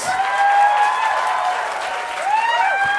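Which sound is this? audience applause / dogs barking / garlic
audience applause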